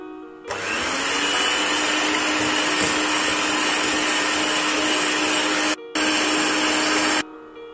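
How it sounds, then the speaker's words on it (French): Electric hand mixer beating brownie batter with walnuts and chocolate, a loud steady whirring drone running for about seven seconds with a brief cut near the end, no talk. "je remélange quelques secondes au batteur"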